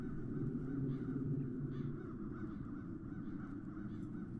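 Crows caw in the fantasy adventure game The Dark Eye: Chains of Satinav, harsh calls rising faintly and repeatedly over a loud, steady low ambient drone.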